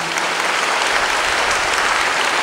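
A worshipping congregation at a Divine Mercy Congress claps hands in thanks, a dense, loud, continuous applause from many people throughout.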